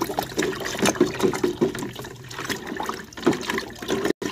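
Water sloshes and swirls steadily in a container while salt is stirred in to make a dense saltwater solution. The splashing is soft and continuous with a few brief louder clinks and trickles, and no voices are heard.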